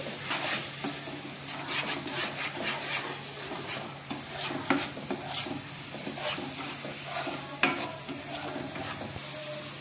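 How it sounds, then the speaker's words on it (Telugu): Ginger garlic paste and coconut paste fry in oil with a dense, steady hiss and sizzle, and frequent quick scrapes and taps of a spatula run throughout. No voices are heard. "యాడ్ చేసుకొని పచ్చివాసన పోయే వరకు బాగా ఫ్రై చేసుకోవాలి"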